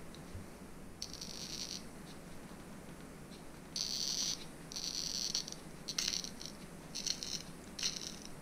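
A glass boiler sight tube is scored for cutting, giving a series of short scratchy rasps, one long stroke followed by several quicker bursts, close and fairly quiet against a hissy background.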